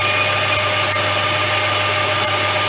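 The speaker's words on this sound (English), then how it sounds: "So just taking the final boring cut now" A metal lathe takes a final boring cut, a steady continuous machine hum and motor whine with faint cutting noise, no talk over it.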